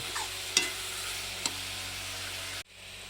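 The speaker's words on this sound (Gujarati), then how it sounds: "થોડા વટાણા નાખી દીધા છે મિત્રો પણ હલાવી થોડીક વાર જ્યાં સુધી ડુંગળીના વટાણા પાકી ન જાય ત્યાં સુધી પાકવા દેશું" Onions and peas cooking in a pan give off a steady sizzle while a spoon stirs them, with two sharp scrapes against the pan before the sound cuts off abruptly near the end.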